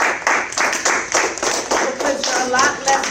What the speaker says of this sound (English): take a moment and pause and clap for yourselves and